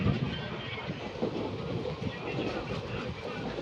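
Katihar–Siliguri Intercity Express hauled by a WDG4G diesel locomotive, heard from on board as a steady, close, rolling rumble with a faint wheel clatter. No voices are heard.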